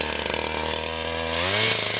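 A Husqvarna 372XP chainsaw runs close by, its engine droning in a steady whine that rises in pitch near the end as the throttle opens, with no one talking.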